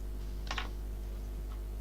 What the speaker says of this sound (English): Typing mode on.